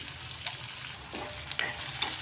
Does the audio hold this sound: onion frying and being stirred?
yes